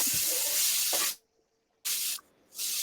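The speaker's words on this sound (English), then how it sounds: "Y'all hear that sizzle?" Vegan bacon sizzles in a pan with a loud, close, airy hiss that drops out briefly, returns in a short burst, then resumes.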